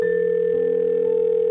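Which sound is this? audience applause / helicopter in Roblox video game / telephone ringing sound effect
telephone ringing sound effect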